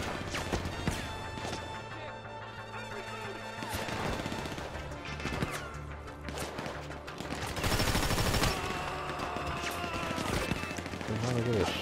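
Gunfire in Grand Theft Auto V on PS4 during a sniper and gunner firefight, dense repeated shots and crashes layered over steady game noise, with someone talking throughout.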